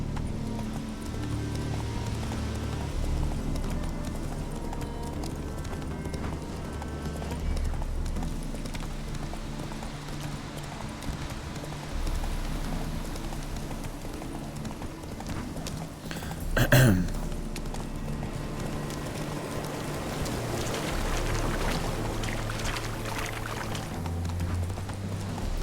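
Roach, Geralt's horse in The Witcher video game, gallops with steady rhythmic clip-clop hoofbeats throughout, over a music and ambient backdrop, with a brief sharp burst near the middle.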